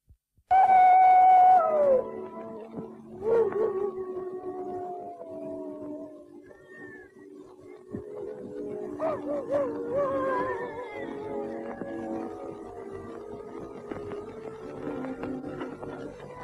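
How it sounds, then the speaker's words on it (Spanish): Coyotes howling at night in an old Western desert setting, long wavering cries that rise and fall like a wailing child, loud and sustained with several overlapping voices. "Los coyotes me crispan los nervios. Aullan como un niño llorando."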